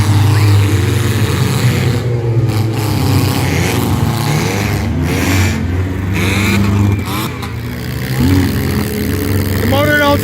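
A 2009 Dodge Caliber's engine runs rough and overheating, a loud, strained droning motor that churns continuously with uneven surges throughout.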